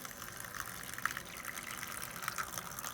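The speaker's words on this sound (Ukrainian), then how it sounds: "Поставила, вона зараз набереться тепла водичка." Warm water running steadily into a container while grain is sprouted for chickens: a continuous, even rushing and splashing stream, close by and moderately loud, with no talking.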